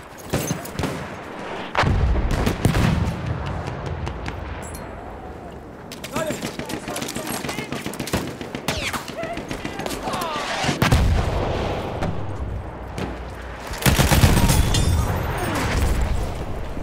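Dense battlefield gunfire from Battlefield 1 on the Albion map, with rapid machine gun bursts among heavy booms and artillery-like blasts. The clatter keeps going throughout and swells loudest near the end, with shouted voices mixed in.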